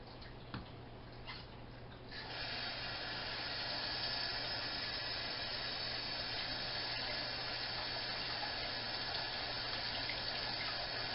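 A kitchen tap runs into a bowl of rice, starting with a few clinks and splashes before settling into a steady, close, even rush of water that continues to the end.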